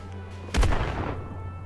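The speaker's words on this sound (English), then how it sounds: "Discharge that rifle, soldier." A single loud rifle shot booms in a video game, a sharp blast with a rumbling tail over a steady background hum.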